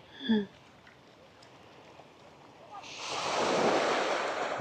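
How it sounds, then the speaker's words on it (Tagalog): Ocean surf swells up and washes in near a seaside spot with modern buildings in China, rising to a loud breaking rush in the last seconds after a short vocal sound and a quiet stretch of wind. "Bes kapag lumakas yung alon, malamang tumakbo ka."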